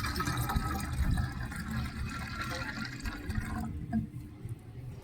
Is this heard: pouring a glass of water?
yes